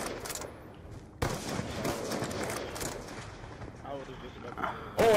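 Gunfire in a free-for-all first-person shooter match, bursts of shots and impacts coming in clusters, mixed with game effects and a player talking excitedly over it.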